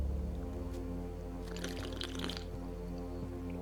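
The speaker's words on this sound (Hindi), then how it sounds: "पानी पीने की आवाज़ देख रहे हो आप कैसी है इसमें" Water being drunk from a bottle: a brief cluster of gulping, sloshing sounds rises over a steady, tonal background hum, then fades back into it.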